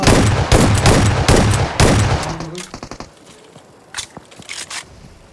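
Rapid bursts of automatic gunfire in PUBG Mobile, loud and dense for the first few seconds, then thinning into scattered single shots and short crackling pops at lower volume.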